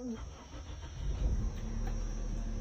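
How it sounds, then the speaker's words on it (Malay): A Toyota Corolla engine idles steadily, a low, even rumble that holds constant and grows slightly fuller toward the end, with a faint high whine above it. "Engine memang steady beh"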